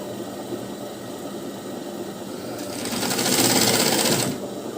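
A sewing machine stitches the lining of a blouse with a continuous close mechanical whir. It speeds up partway through, turning brighter and louder for about two seconds, then falls back to a softer hum.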